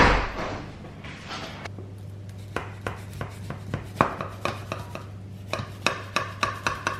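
Knife slicing through food on a cutting board at home, a series of sharp, close chops in an uneven rhythm growing steadier, over a low hum with no talking.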